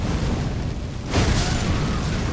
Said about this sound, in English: Those goddamn explosions at the end of his attacks